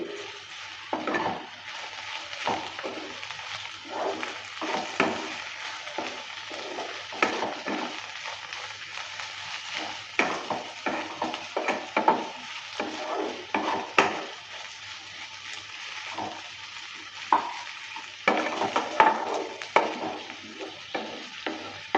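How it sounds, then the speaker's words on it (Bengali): Fried masoor lentils and okra sizzle together in a pan while a spatula stirs and scrapes in repeated close, uneven strokes over a constant frying hiss. "মুসুর ডালটা ভাজা ভাজা হয়ে গেছে এবার মিলিয়ে দেবো ভেন্ডির সঙ্গে একসঙ্গেই"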